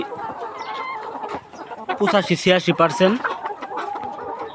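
Layer hens, 190 days old, cluck loudly and busily in a farm shed, with a burst of sharp calls near the middle while someone speaks.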